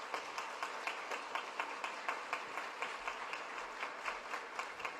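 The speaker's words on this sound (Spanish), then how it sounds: "Te doy un aplauso y un reconocimiento." Audience applause at the opening ceremony of FREJEMUN, a steady stretch of moderately distant clapping from a crowd with rhythmic peaks, no voices.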